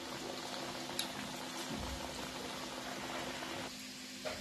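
Samosas fry in hot oil on a medium gas flame, giving a soft, continuous bubbling sizzle at low level, with a couple of faint clicks and a slight drop in the hiss near the end.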